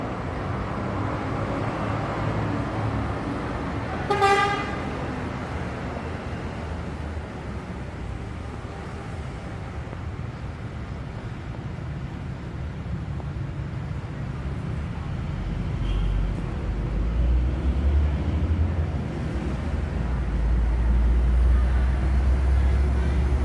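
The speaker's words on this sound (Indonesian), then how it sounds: "Masuk bis Mira teman-teman di Terminal Mawaspati." A Mira bus pulls into Maospati bus terminal in Magetan, with a busy, rumbling terminal background, a brief tonal horn-like blast early on, and a deep engine rumble swelling louder toward the end.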